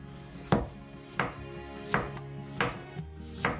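A knife cuts lengthwise through a radish onto a cutting board, with six sharp, evenly spaced chops about every two-thirds of a second, close and clear, and no talking.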